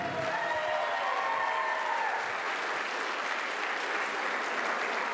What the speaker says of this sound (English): One more round of applause for Alex, please.